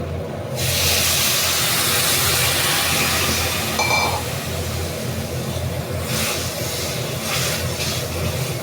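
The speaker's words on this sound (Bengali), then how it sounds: "এখন আমি সবসময় গরম জল ইউজ করি তরকারিতে, গরম জল দিয়ে দেব।" Hot water poured into a pan of simmering curry sets off a sudden loud hiss that rises sharply and continues as a steady, close sizzle and bubbling roar.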